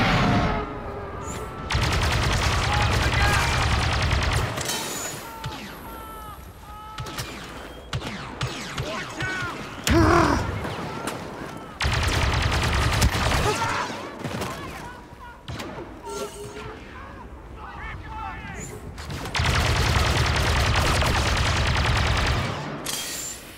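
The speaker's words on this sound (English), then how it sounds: "Wait until I open fire." Blaster-style gunfire in Star Wars Battlefront 2 comes in loud, sustained bursts of rapid shots, separated by quieter stretches where a player talks over lighter game sounds.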